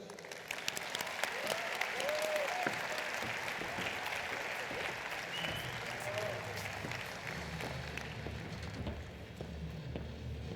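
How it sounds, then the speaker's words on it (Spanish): A conference audience gives sustained applause to welcome a speaker at a lecture on Christian humanism, a steady wash of clapping that fills the room, with voices audible beneath it. "Recibámoslo con un aplauso."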